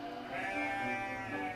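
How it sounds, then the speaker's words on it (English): Sheep bleat on a hillside pasture, one sustained, wavering call that rises clearly and sits fairly close. "Come, sheep! Come, sheep!"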